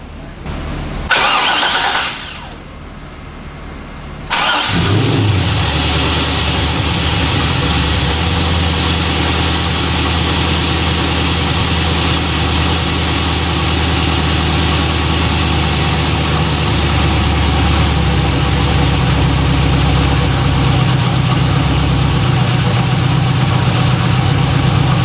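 An LS V8 swapped into a Mazda RX-7 FD cranks briefly, catches with a loud roar and settles into a steady, rumbling idle that holds close and loud for the rest of the stretch.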